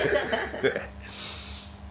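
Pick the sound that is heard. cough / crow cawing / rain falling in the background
cough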